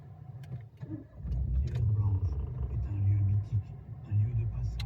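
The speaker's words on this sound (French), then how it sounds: "Donc on va démarrer ensemble le véhicule." Renault Twingo 0.9 TCe petrol engine cranking and catching, then settling into a low steady rumble at close range, with some background noise.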